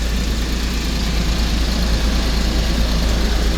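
A 1998 Mitsubishi MiniCab 4x4 dump truck engine runs steadily close by, a low, continuous drone with no gaps and no voices.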